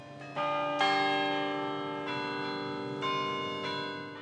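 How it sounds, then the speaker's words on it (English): Church bells in Jefferson ring out a melodic tune, each strike blooming into long overlapping resonance, fairly close and loud, with no voices. "These bells are playing"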